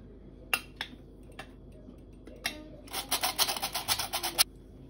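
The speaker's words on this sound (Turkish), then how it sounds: "Bunların hepsini elekten geçireceğim." Flour and cocoa being sifted through a sieve for a soufflé batter: a few isolated taps, then a rapid run of scratchy rubbing and tapping strokes near the mic, with no talking.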